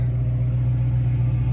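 A 1966 Ford Mustang A-code V8 with Flowmaster exhaust idles with a deep, steady rumble, close and loud, its low throb unbroken and without any talk.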